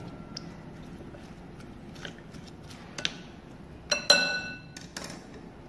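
A spoon mixes seasoned frog meat for porridge in a bowl. Soft stirring gives way to a few sharp clinks against the dish near the end.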